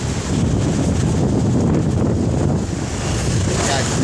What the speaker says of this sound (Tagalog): Napakalakas ng hangin dito.